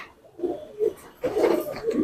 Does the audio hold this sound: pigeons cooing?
yes